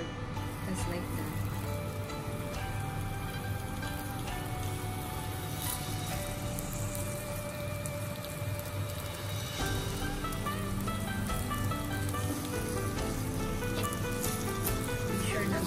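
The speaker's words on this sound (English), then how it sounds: "Guys, let's fry our pork just like that." Pork frying in a pan for Japanese shogayaki, a steady sizzling hiss running throughout under background music and low kitchen noise.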